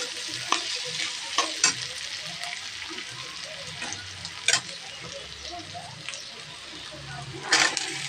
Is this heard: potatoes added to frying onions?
yes